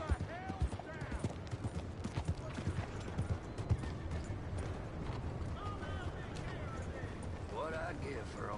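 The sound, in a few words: horse hooves clip-clopping in a video game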